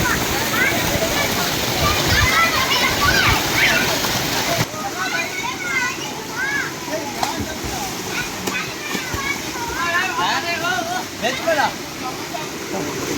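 Children splash and play in cold tubewell water on a hot summer day, a steady broadband rush of pouring water with scattered splashes and excited voices and shouts over it throughout.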